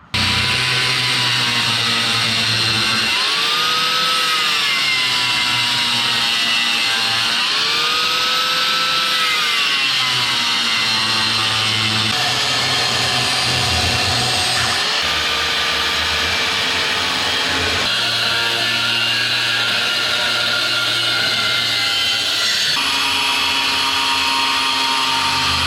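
A power tool cutting pieces off a headlight bracket gives a loud, continuous high-pitched whine and grinding that changes pitch as the cut loads and eases, with no talking.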